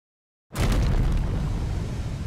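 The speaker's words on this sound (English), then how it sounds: "Big explosion." After half a second of silence, a loud explosion bursts in Pokemon Legends Z-A and rolls on as a sustained deep roar.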